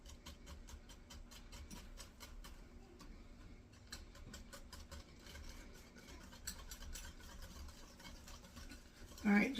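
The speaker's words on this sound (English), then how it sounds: "just whisking, breaking everything up, getting everything smooth" A whisk beats rum cake batter in a bowl with quick, quiet, rhythmic scraping and tapping strokes, faint and continuous, ending in a brief louder clatter.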